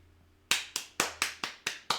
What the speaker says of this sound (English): I don't know why I'm clapping for myself.